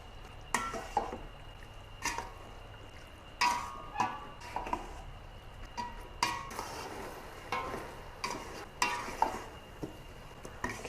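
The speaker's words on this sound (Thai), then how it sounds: "เราก็จะเอาหมูสามชั้นนะคะ การจะผัดให้หมูสามชั้นมีความตึงเลยนะคะ" Pork belly stir-fried in a pot for braised pork, with a low sizzle under regular scraping and clinking strokes of a utensil against the metal, close and fairly quiet.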